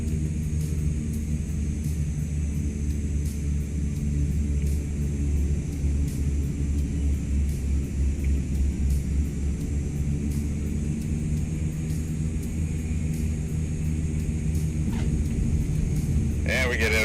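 A CL-415 water bomber in Microsoft Flight Simulator 2024 takes off over Queensland, Australia, giving a steady, loud droning engine rumble with a constant high whine, near and unbroken throughout.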